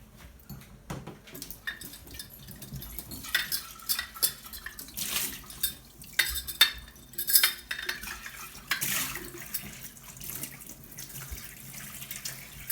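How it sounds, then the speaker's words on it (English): Tap water runs into a mason jar as it is rinsed at a sink, with splashing, sloshing and light clinks of glass against the basin in irregular bursts, fairly close and moderately quiet. "So I always just rinse out my my mason jar."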